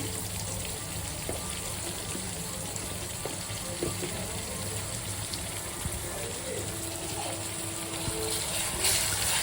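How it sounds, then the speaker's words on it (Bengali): Garlic paste sautés in a pan in a home kitchen, making a continuous broadband hiss and sizzle at moderate level with a few faint clinks. The texture is almost watery, and it swells slightly near the end. "এটাকে কষাবো"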